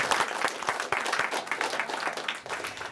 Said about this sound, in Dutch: Mag ik een groot applaus voor Tim?